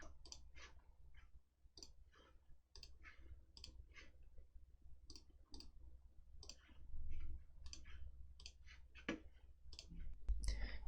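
Computer mouse clicking in a quiet room, with many light, sharp clicks spread irregularly throughout, close but faint over a low hum.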